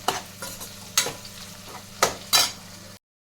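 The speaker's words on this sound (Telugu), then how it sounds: "ఒకసారి కరివేపాకు, వెల్లుల్లి రెబ్బలు వేసినాక ఇలాగా ఫ్రై అయిపోతుందండి" Ivy gourd frying in a pan with curry leaves and garlic cloves, heard as a steady low sizzle broken by several sharp stirring scrapes and clinks, close and fairly loud, with no talking.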